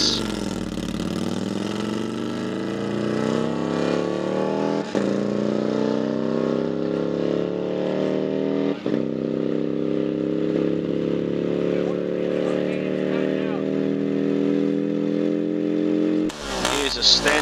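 A small motorcycle engine at a New Zealand speed week race meeting revving steadily, its pitch climbing under load with a couple of brief gear-change dips and a rising tone toward the end, while a commentator talks.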